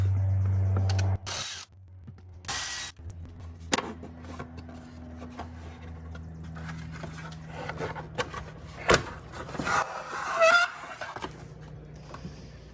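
A hand ratchet clicks in short bursts while loosening 5mm hex bolts under the hood of a BMW 135i E82 with the N54 engine during an oil catch can install, with clattering handling noises between bursts.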